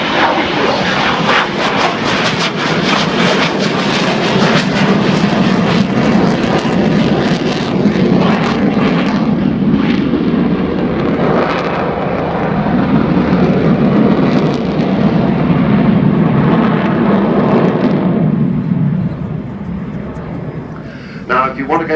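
An Avro Vulcan jet bomber flies a display at Farnborough Airshow, a loud continuous roar of jet engines swelling and fading, with a commentator talking over it.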